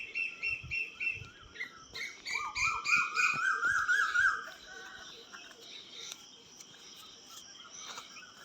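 Several birds chirp and trill in quick, bright bursts in the morning, with a faint insect buzz beneath, then the calls fade to softer, sparser tweets.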